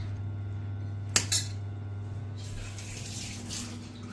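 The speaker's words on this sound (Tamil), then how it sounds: "இன்னும் கொஞ்சம் தண்ணி ஊற்றிடலாமா" A metal clink, then water pours steadily into a pot over a constant low electrical hum.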